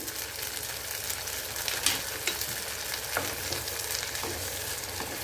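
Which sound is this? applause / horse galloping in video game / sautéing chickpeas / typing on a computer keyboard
sautéing chickpeas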